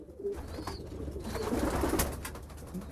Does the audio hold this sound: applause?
no